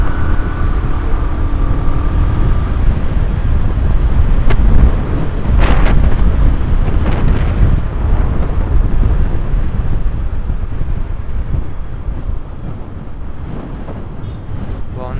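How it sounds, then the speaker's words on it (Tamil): Wind buffets the microphone on a motorcycle ride along Trichy Road from Somanur to Sulur in Coimbatore, a loud, steady low roar throughout with faint passing traffic sounds. "கொஞ்சம் காத்து கம்மியாக இருக்குது."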